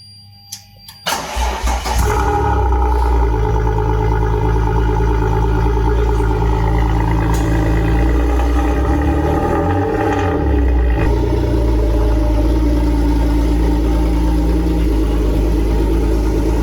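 A GT V6 car cranks and fires on a cold start, a few clicks and a short starter whir before the engine catches and settles into a loud, steady low idle close by, with no talking over it.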